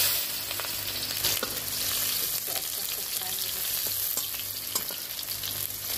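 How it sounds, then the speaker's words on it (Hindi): Onions fry with whole spices in hot oil, a loud, steady close-up sizzle with occasional stirring clatter and spatter pops throughout. "प्याज तो फ्राई हो गया है"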